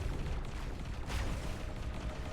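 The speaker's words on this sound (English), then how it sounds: "Explosion imminent. There goes that section." A dense, continuous roar of explosion rumble from a video game fills the clip, loud and steady, with a brighter burst swelling about halfway through and no speech over it.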